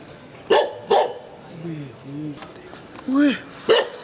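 A dog barks outdoors at night, with two quick barks and then one more a few seconds later, against steady cricket chirping. Voices speak quietly between the barks.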